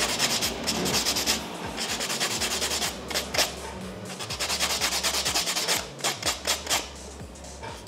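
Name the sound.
pumice block buffing a fingernail surface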